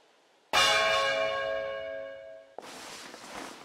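A big, loud bell in the video game Fire Emblem Engage strikes once and rings out for about two seconds, its tone fading slowly before a burst of clattering noise cuts in.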